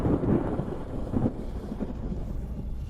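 Thunder from a ninefold lightning tribulation in an anime, a dense low rumble that swells in two heavy surges and then rolls on steadily, loud and close with no voices over it.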